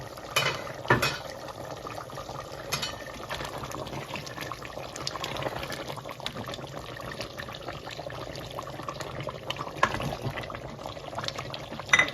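Potatoes dropped into simmering beef curry in an electric pressure cooker, with bubbling liquid, a few sharp clatters of pieces and utensils against the metal pot, and a steady background hiss.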